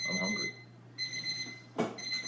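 Kitchen timer buzzer going off while eggs fry in a pan, a steady electronic tone that sounds, pauses, and returns, with a brief clatter and some talking.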